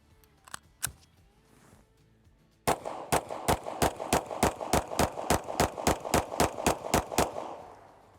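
A Canik MC9 Prime compensated pistol fires a long rapid string of about sixteen sharp, loud shots at an even cadence, preceded by a few scattered single reports and clanks.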